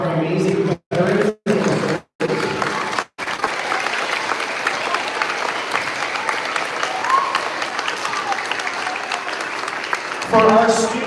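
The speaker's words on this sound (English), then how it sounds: "One more round of applause for all of our amazing veterans." Sustained applause from students and staff at an elementary school Veterans Day assembly, preceded by a few short bursts and gaps, then a steady, loud clatter of clapping that lasts several seconds.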